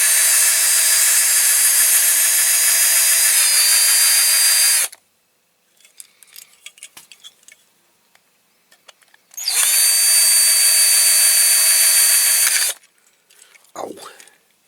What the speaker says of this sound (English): Still using my blunt drill,